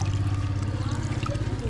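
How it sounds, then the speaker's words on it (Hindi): Water poured steadily from a container onto plants, a continuous low gurgling splash lasting a moment, close and fairly loud. "डाले पानी"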